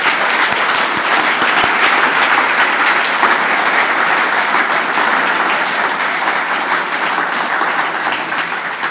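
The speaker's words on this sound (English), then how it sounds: "All the applause." Sustained, loud audience applause fills a hall at a Robert Creeley centenary poetry reading. Many hands clap steadily and evenly for several seconds with no voice over it, then the clapping eases slightly at the end.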